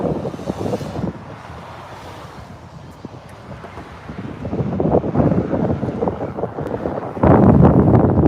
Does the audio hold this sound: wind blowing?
yes